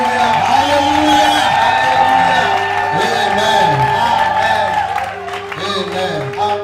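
Church congregation at a prayer service cheering and shouting acclamations, a loud, dense crowd of voices, whoops and clapping sustained throughout, with singing and shouted praise mixed in.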